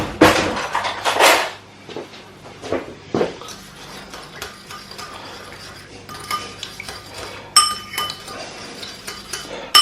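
A spoon clinks against a dish or glass as granulated sugar is stirred to dissolve it, a run of bright, irregular taps and scrapes up close, busiest at the start and again near the end, with no talk.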